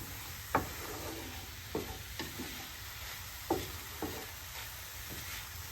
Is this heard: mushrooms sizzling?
yes